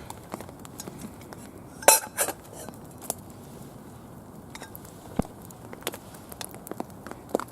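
A little spoon clinking against a metal camp cooker pot outdoors, a few light metallic taps and scrapes with one louder clatter near the middle, close and otherwise quiet.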